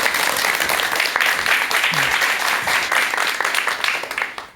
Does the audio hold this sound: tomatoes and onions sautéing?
no